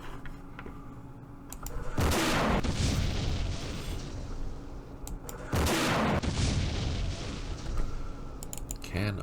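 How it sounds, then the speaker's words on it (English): Artillery fires across a valley in a war strategy game, battle of Jerusalem, with two heavy booming volleys several seconds apart, each rolling into a long rumbling tail, between quieter stretches of ambient battle noise. "let's just fire across the valley"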